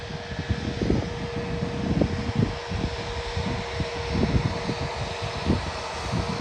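A Pegasus Airbus A320neo jet at Leipzig airport drones steadily with a constant engine whine under rumbling, gusty wind noise, heard from some distance.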